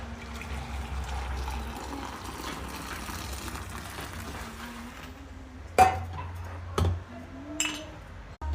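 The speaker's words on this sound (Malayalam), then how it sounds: "നമുക്ക് ചായ ഇനി നല്ലപോലെ അടിച്ച് പതപ്പിക്കണം." Tea is poured back and forth between vessels to froth it, making a long splashing stream followed by a few sharp metallic clinks, close and moderately loud.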